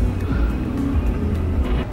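Steady road traffic heard from inside a car in slow, inching northbound traffic on Route 29 through Kansas City, a continuous close engine and tire rumble with no talking.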